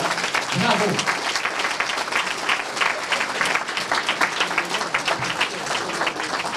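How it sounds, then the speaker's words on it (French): Sustained applause from a gala audience at a business awards evening, a dense, steady wash of clapping filling the room, loud and continuous throughout. "Bravo, félicitez-vous, applaudissez-vous."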